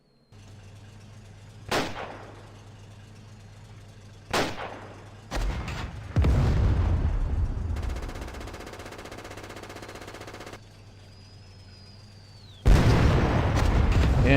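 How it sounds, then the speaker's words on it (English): Howitzer artillery firing at a target during a military exercise, several loud booming blasts spaced seconds apart with sharp onsets and rumbling decay, heard from a distance outdoors. "they're pretty close to the target that they're trying to pound at with those howitzers"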